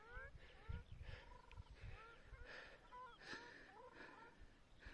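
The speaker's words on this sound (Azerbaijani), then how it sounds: "bax, o da dağ ördəkləri" Mountain ducks on a lake in Kalbajar, Azerbaijan give faint, distant honking calls in short repeated bursts, with quiet outdoor background noise.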